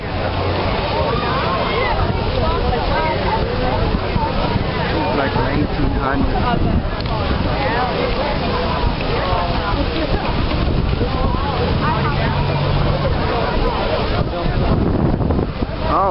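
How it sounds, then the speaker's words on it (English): Strong wind blows outdoors beside an old house being saved, with loud, constant buffeting against the microphone. People talk under the roar throughout. "Oh, wind's blowing."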